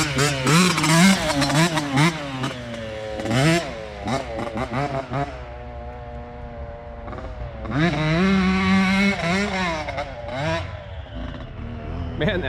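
Yamaha YZ65 two-stroke dirt bike ridden nearby, its high buzzy engine revving up and down in repeated rising and falling pulls with a raspy ringing tone, loud throughout with some voices under it.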